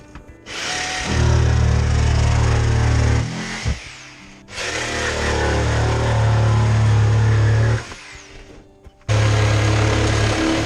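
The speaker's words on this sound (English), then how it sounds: "Pre-drilled holes ready to fit the jigsaw blade through." A jigsaw cuts through a steel van roof rack in three long, loud, close bursts of harsh buzzing with short gaps between them.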